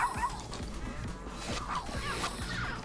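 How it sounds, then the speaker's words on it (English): Pomeranian barking in the video game Tokyo Jungle, a run of short repeated yips at a steady rhythm over game music and background sound, loud and close. "Oh, I started barking?"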